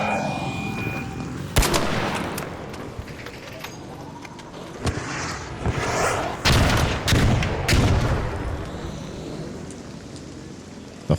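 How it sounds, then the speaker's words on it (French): Scattered gunfire in the video game Arc Raiders, with sharp single shots and short bursts at varying distances over a rumbling ambient game backdrop and no voices. "T'entends pas les tirs là?"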